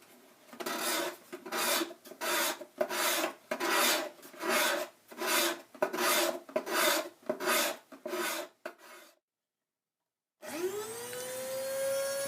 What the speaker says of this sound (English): We'll just scrape it down and